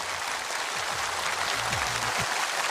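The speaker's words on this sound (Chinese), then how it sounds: "掌声有请" A studio audience on a CCTV variety show applauds in a dense, even wash of clapping that holds steady for the whole stretch, with faint low tones beneath it.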